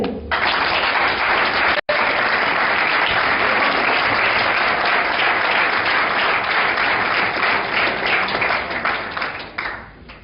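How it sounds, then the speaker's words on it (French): Sustained, dense applause from a gathered crowd at a contract-signing ceremony for Elikya academy youth players, honouring former footballer Tsoumungoy Le Petit; loud and steady for about ten seconds, with one brief break near the start before fading at the end. "Je demande qu'on puisse l'applaudir."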